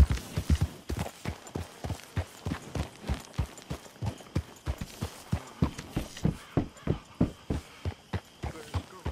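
A horse in the video game Red Dead Redemption 2 clip-clops with a steady, rhythmic run of hoofbeats that start close and loud and then settle into a lighter, even pace.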